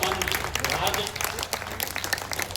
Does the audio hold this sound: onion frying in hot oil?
no